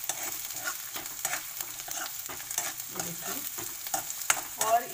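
Onion pieces and chopped green chili stir-frying over a high flame, a steady bright sizzle broken by repeated scraping stirs of a spatula, close and continuous with no talking.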